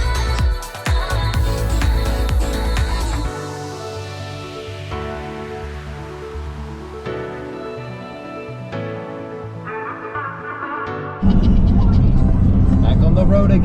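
Car driving on the road, a loud close rumble that turns to a softer steady cabin hum with a falling tone, then grows loud again near the end, with people talking over it.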